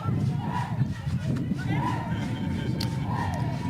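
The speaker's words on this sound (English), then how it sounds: "You can see the Zimbabwean girls there cheering for their..." Players from the Zimbabwe under-20 women's football side cheer during a regional championship match against Botswana. The shouting is loud, steady and massed, with thumps and footfalls underneath.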